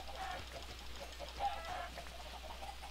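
Chickens clucking in the video game Minecraft, a few faint, short clucks scattered over a quiet, steady background hum.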